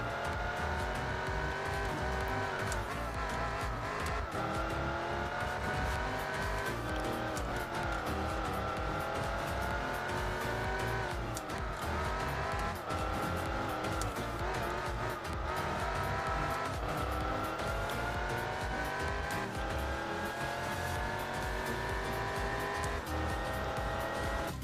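A race car in Gran Turismo 4 drives continuously, its engine loud and close, revving up and down through the gears with repeated pitch climbs and drops, with tire squeal at moments and no talk over it.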